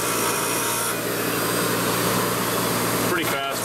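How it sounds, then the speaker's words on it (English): A rotary grinder grinds the points off a model tanker car, a steady loud whirring rasp throughout that briefly dips near the end. "I'll get it and grind the points off."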